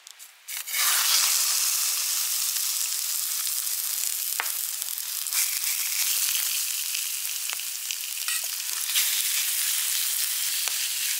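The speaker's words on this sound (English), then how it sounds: "How the hell is that frying?" Stew vegetables hitting a hot pan while wild camping in Scotland, a sudden loud sizzle that settles into continuous close frying with small pops and crackles throughout.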